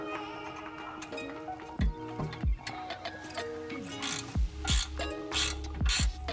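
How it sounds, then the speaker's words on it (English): A ratchet with a 7mm Allen socket clicks rapidly and loudly up close while breaking loose brake caliper pins on a VW MK7 GLI, in repeated short bursts of ratcheting with brief pauses. "Now we can loosen our caliper pins. We'll break loose our caliper pins again. These use a 7mm Allen"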